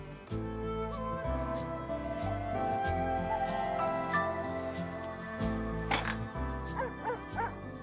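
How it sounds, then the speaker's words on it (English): On an open moor, a dog gives yips, barks and whimpers in short bursts over a sustained tonal musical backdrop, with a few sharper calls near the end. "It's only a dog, Fred."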